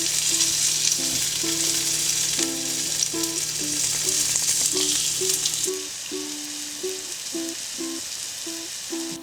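Cod fillets frying in a pan for fish tacos, a loud close continuous hiss of hot oil that drops slightly in level partway through, with a hum in the background.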